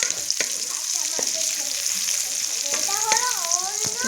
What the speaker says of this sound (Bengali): পেঁয়াজটা ভালো করে ভাজতে হবে। পেঁয়াজটাকে একটু ভালো করে ভাজতে হবে।